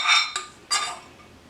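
Boiled green chillies and ginger drop into a mixer jar with a few short metallic clinks and clatters, three quick knocks close by in a quiet kitchen.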